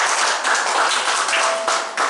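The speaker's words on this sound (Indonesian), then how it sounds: "tepuk tangan yang meriah buat Tuhan" Congregation at a Sunday church service in Indonesia claps enthusiastically, a loud dense wash of applause that stays steady throughout with a few sharper accents.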